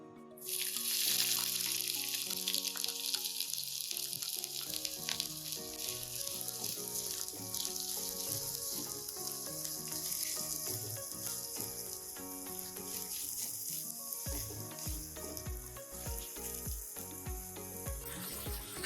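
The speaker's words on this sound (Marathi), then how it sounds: "तेल गरम झालं की ह्यामध्ये आपण बारीक चिरून घेतलेला कांदा ॲड करूयात" Finely chopped onion fries in hot oil in a kadai for veg patti samosa, a steady bright sizzle starting suddenly after a moment's quiet and carrying on beneath prominent music.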